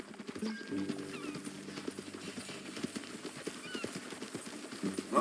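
Hooves of a horse in Red Dead Redemption 2 clip-clop in a steady walking rhythm, with a short whinny and soft ambient background; no talking.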